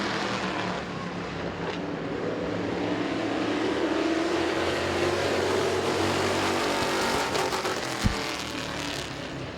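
Race cars circling Midvale Speedway, a loud continuous roar of several engines droning and swelling together, with one sharp thump near the end.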